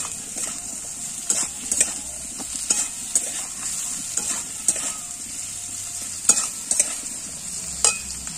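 Chopped onion is stirred as it fries in a pan, a continuous loud sizzle with frequent spatula scrapes and clinks against the metal in an irregular rhythm, close up.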